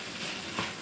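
Ground meat for chili con carne sizzles and fries in a pan, a soft continuous crackle with a brief stirring swell partway through.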